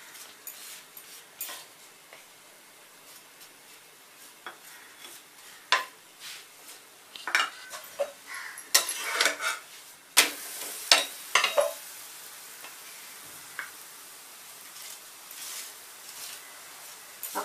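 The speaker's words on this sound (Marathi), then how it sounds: "हे भाजताना आपल्याला फिरून फिरून भाजून घ्यायची." Tilgul poli, a sesame-jaggery flatbread brushed with ghee, roasting on a pan over a medium flame: soft sizzling with scattered clicks and scrapes as it is turned again and again, close and fairly quiet.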